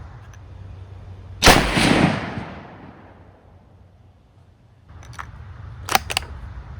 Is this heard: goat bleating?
no